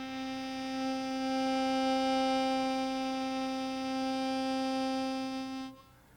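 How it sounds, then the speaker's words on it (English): A harmonica blow reed sounds as air is blown through the instrument, giving one steady, sustained reed tone with rich overtones, close and alone, that holds for about six seconds before stopping abruptly. "When you blow air into the harmonica, you are activating the blow reed,"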